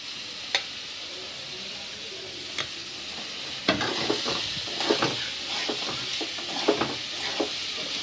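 Cucumber pieces with turmeric powder sizzle in a hot pan while a spatula scrapes and stirs them, giving a steady frying hiss broken by irregular clacks and scrapes.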